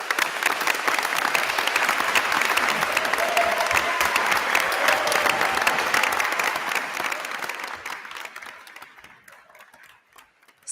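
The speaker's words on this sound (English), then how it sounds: "Special Olympics team goes to the front by the audience to a standing ovation by the crowd." A crowd at a school board meeting gives a standing ovation to a Special Olympics team, dense sustained applause that holds steady, then fades out over the last few seconds.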